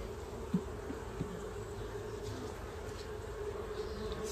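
Honey bees hum steadily around an opened hive during an inspection on a hot day, a continuous low buzz with faint close passes, no voices.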